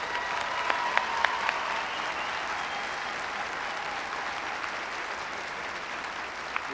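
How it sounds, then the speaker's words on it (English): A large audience at a winter undergraduate commencement ceremony applauds steadily, dense clapping holding at an even level with a few sharper claps and faint crowd noise. "how about one big round of applause for this special group?"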